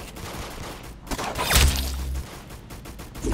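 Gunfire in Roblox Arsenal, a burst of shots cracking out near the middle of a short stretch of steady game noise, loud and close, with a low booming tail after the hit.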